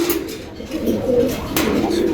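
A pigeon coos briefly and close by at a pigeon market, low throaty calls over a busy background.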